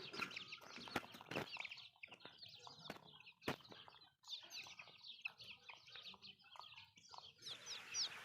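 Chickens and chicks cluck and cheep in a morning farmyard alongside rabbits, with fairly faint, scattered calls repeating throughout, broken by a few sharp knocks and a brief rustle of wings near the end.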